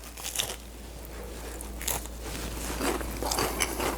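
Bites into crunchy, golden fried fish during a taste test, giving sharp crackling crunches that repeat several times close up over a faint steady hum.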